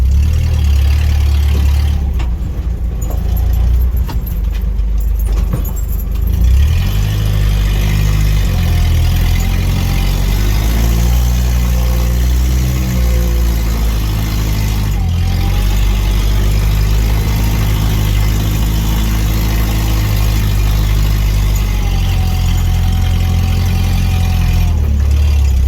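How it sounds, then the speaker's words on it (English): An International Scout 80 on bias-ply tires spins its wheels in snow, its engine droning loudly and steadily with rising and falling revs over nearly half a minute, close up and without speech. "these bias plies, they just spin once you get into the snow."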